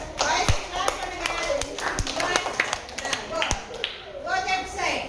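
Children in a classroom clap unevenly in scattered, sharp slaps. The clapping is moderately loud and close, with children's voices murmuring underneath.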